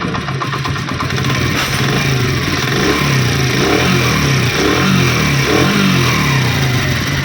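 A motorcycle engine runs after timing chain repair and replacement parts in a workshop, a steady, loud, close idle with an even rhythmic thrum and a slight rise in revs, with no talk.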